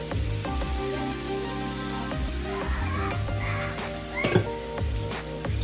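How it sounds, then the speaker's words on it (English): Tomatoes, two jalapeños, a serrano and onion sauté in a hot pan, a loud close sizzle broken by frequent stirring scrapes and a few sharp clinks of utensil on metal. "you're basically gonna just like saute this until the onions are translucent"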